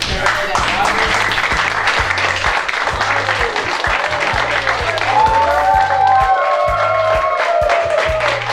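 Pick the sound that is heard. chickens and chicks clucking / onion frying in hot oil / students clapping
students clapping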